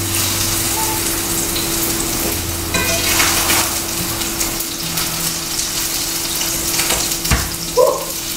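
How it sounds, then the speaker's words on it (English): Plantains fry in a pan on a home stove, giving a steady soft sizzle with scattered sharp pops and a faint hum behind it. "You gotta pay special attention to the plantains. They do pop you."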